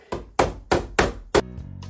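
Five sharp hammer blows strike at an even pace as a window unit is driven into its frame, loud and close, followed by a faint rattling hum.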